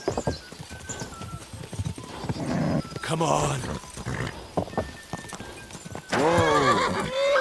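A horse in Kingdom Come: Deliverance II clip-clops at a run and then lets out a loud, shrill whinny near the end, while a person speaks briefly over the hoofbeats.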